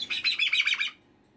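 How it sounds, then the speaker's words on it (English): A bird gives a quick run of high, warbling chirps for about a second, fairly close and clear, and then the sound stops, leaving near silence. "That's called an annoying bird noise."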